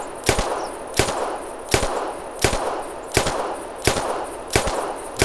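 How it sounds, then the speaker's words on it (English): A 10mm semi-automatic pistol fires in the hunting video game theHunter, seven sharp evenly spaced shots about every 0.7 seconds, each with a short echoing tail, with no talking. "And let's fire another clip."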